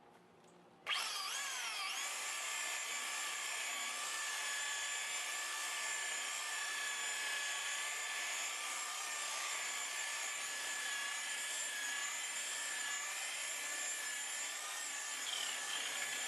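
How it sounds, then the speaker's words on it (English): Electric buffer polishing scratches out of the paint on a Volkswagen Jetta, starting abruptly after a moment of quiet, then a sustained, even whirring whine that holds steady and close throughout. "So I'm going to hit it with my buffer real quick."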